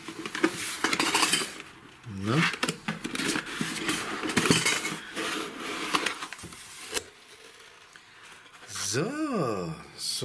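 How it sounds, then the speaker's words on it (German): Glass and metal items clink and rattle inside a package as it is opened and unpacked, scattered bright clatter and rubbing mixed under steady talking nearby. "Ach, man hört schon klimpern."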